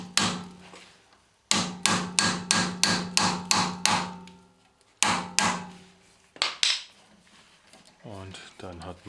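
Impact wrench loosening the rear brake caliper bolts on a BMW 1 Series E87: a fast series of sharp, evenly spaced hammering blows, then a shorter second burst and scattered knocks, with a rattle at the end.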